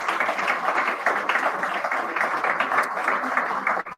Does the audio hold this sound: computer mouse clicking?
no